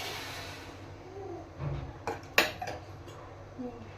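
A metal spoon scrapes and clinks against a pan while homemade Diwali chivda is tossed with oil, a few soft stirring scrapes followed by sharper clanks, fairly close and isolated.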